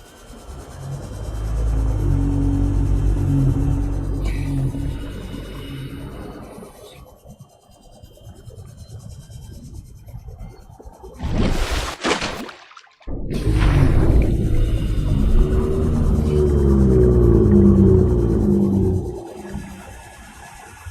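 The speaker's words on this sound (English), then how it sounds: "those space whales, you hear them for pretty much most of the game" Space whale leviathan calls from the video game Subnautica: deep, drawn-out moaning rumbles with grinding, rasping textures, swelling and fading in long waves, with a sharp whooshing burst midway and no talk.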